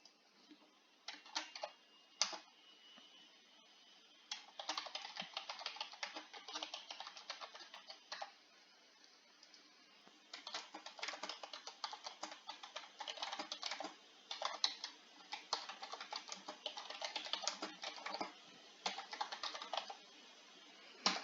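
A quiz question is typed on a computer keyboard, heard as long stretches of quick, light key taps with short pauses between bursts, close and fairly quiet over a faint steady hiss.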